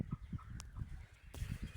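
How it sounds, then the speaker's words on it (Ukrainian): A broody hen clucks in soft repeated bursts nearby, with faint higher peeps from her chicks mixed in. "Маємо квочку одну з курчатками. Є дорослі кури."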